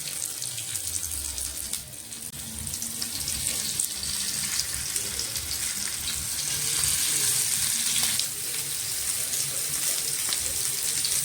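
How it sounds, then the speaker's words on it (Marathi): Spice-coated okra hits hot oil and fries with a loud, continuous sizzle and crackle that swells and settles, close up in a home kitchen. "तर तेलमध्ये आपण डायरेक्ट ह्या भेंड्या सोडणार आहोत."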